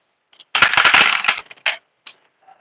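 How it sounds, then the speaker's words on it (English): Dice roll for a word game: a quick loud clatter of several dice tumbling together on a hard surface, then a few scattered clicks as the last ones settle and go still. "let's do a roll of the dice"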